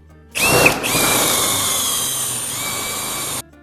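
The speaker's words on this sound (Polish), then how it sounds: "Największe wiertło, jakie znalazłem, to jest ósemka, więc biorę się do roboty za pomocą ósemki. Będzie trochę wiercania." A power drill with an 8 mm bit bores into an oak table, starting with a brief rising whine and then running steadily for about three seconds, close and loud, before stopping abruptly.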